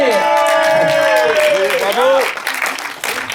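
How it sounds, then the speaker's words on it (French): Festival audience at a short-film competition applauding the film's directors and lead actress as they come forward; clapping sits under prominent raised voices and cheering, loud at first and easing slightly toward the end. "Applaudissez-les."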